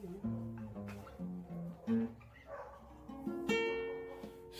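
A dog gives a few barks and yips heard over tonal music with a steady beat, the barks short and fairly close, scattered across the stretch rather than in a steady run.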